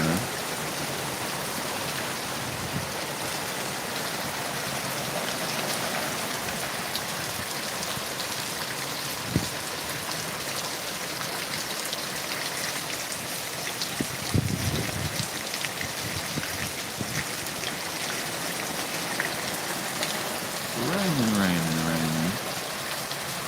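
Rain pours steadily, a broad constant wash of drops hitting surfaces, with a few small knocks and a brief voice murmuring near the end.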